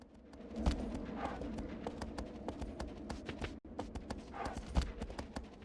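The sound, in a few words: horse hooves galloping in video game Shadow of the Colossus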